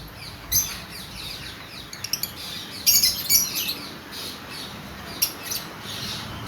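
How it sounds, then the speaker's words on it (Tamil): Colourful finches chirping, a scatter of short bright tweets and a few squawky calls over a quiet background, some calls close and loud, others fainter. "வந்து பிங்கர்ஸ் குருவிகள் இருக்குது."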